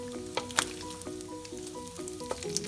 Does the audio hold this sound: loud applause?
no